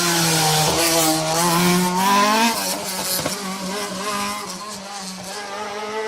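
Rally car on an asphalt stage at Edram, Jim Clark Rally, sweeping past close to the camera, its engine note rising and falling through gear changes, loud and continuous with a brief revving surge midway.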